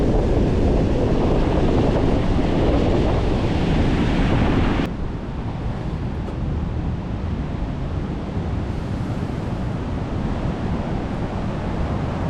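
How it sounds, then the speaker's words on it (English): Loud, close surf crashes and roars continuously against the Big Sur shore along the Pacific Coast Highway, easing slightly partway through, with wind rushing over the microphone. "I'm just gonna have a little front row seat of the waves."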